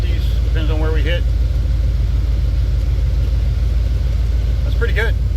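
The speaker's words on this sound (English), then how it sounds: "the truck's been running about 5-10 minutes or so" A 1989 Chevrolet Silverado OBS truck idles steadily in a garage with its A/C running, a constant low rumbling drone filling the clip while someone talks briefly over it at the start and end.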